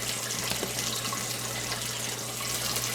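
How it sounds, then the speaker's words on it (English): Juice poured off local hay-fed stew beef runs in a steady, loud, continuous splashing stream, like water pouring into a sink, with a low hum underneath. "Drain the juice off of there."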